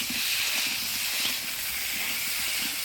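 Potato and pointed gourd sizzle in a pan while being stirred with ginger paste, turmeric and salt, giving a steady close hiss that holds for the whole stretch.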